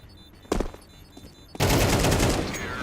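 Gunfire in Counter-Strike 2, a sharp burst of shots followed by a loud sustained volley of rapid fire, close and dense, during a competitive match.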